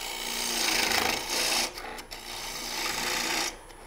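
A lathe gouge scrapes across the grain of a spinning wooden hand-mirror blank, cutting with the lower wing, flute tipped slightly up. It gives a close, rough rasping that swells, breaks off briefly, then returns before stopping.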